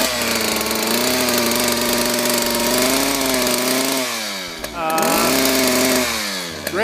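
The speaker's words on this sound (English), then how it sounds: "Got this chainsaw. Ready to go." A chainsaw engine, readied for felling a tree, runs loud and close with a steady droning whine that drops off briefly near the end before revving back up.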